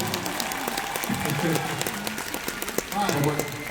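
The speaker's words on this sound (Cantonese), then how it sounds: "可唔可以俾啲好靚熱烈嘅掌聲我啲 dancers" Concert audience applauding dancers at a Hong Kong Cantopop show, a steady dense roar of clapping and cheering from a large crowd that rises slightly near the end, with voices mixed in.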